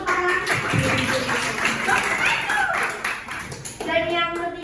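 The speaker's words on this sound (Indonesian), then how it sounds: "Beri tepuk tangan." Audience clapping at a public-speaking forum on abortion, a fairly close patter of hands running through the whole stretch while people talk over it.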